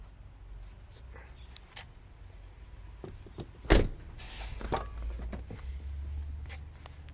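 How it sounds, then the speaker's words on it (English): Power moonroof motor on a 2009 Mercedes-Benz ML63 AMG 4MATIC, a steady mechanical whir inside the cabin with a sharp thunk partway through, then a louder sliding hiss and rustle as the glass panel moves, with no talking. "Naturally, it has a power moonroof."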